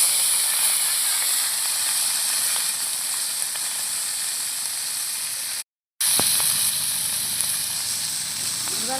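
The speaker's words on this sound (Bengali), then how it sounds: "এই ভাজা জিরের ওপরেই আমি দিয়ে দেবো মাছগুলো।" Rai khoyra river fish hitting hot oil over fried cumin seeds sends up a loud, steady broadband sizzle that runs the whole time, broken once by a brief silent gap.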